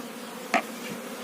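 A single honeybee buzzes briefly close by at a hive, a short sharp burst against a steady low background hum.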